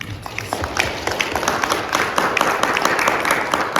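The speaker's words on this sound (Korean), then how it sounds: "우리 감사의 박수 한번" A church congregation in London, Canada claps together after a Sunday sermon, a steady wash of dense applause close by and continuing throughout without voices.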